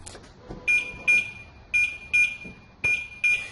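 Short electronic beeps from a 2017 Land Rover with its key locked inside sound in pairs, high and piercing, with brief gaps between each pair, over a faint background hum.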